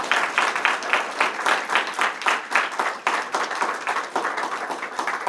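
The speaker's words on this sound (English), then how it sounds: "Have a round of applause." Audience applause for the panelists at the close of a political panel discussion on progressivism and the left, steady dense clapping from a room full of people, fairly loud and continuous with no talk over it.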